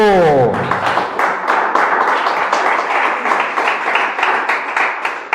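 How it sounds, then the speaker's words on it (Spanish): Church congregation applause at a Spanish-language service, a steady, loud wash of many hands clapping that starts over a fading tone and holds evenly throughout. "Dele un fuerte aplauso."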